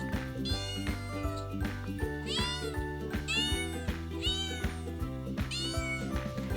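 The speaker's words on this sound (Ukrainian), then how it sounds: "Сидить кошенята та й нявчить, бо хоче додому, до матусі." A small kitten meows repeatedly in a steady stream of plaintive, rising cries over a looping musical backing, close and clear.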